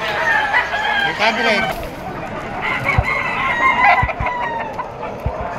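Yellow-legged bull stag roosters at a Malabon pet market cluck and crow repeatedly over lively crowd chatter, with a few sharp knocks and someone talking nearby.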